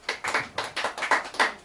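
Rhythmic unison clapping from a church congregation during a sermon, about nine evenly spaced claps in quick succession, fairly close and alone.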